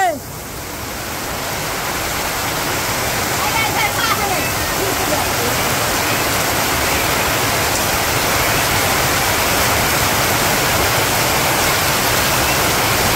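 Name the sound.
heavy rain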